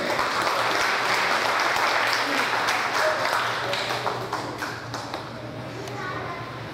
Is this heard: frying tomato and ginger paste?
no